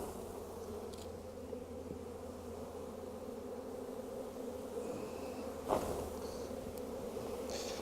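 Honeybees buzzing as they are shaken from a hive frame, a continuous low droning hum with a brief louder bump partway through, faint overall and with no voices.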